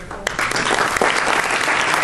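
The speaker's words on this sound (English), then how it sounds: "please join me in giving him a warm applause" Audience applause at a cultural evening in Kuwait, dense clapping starting abruptly and sustained loud and close throughout.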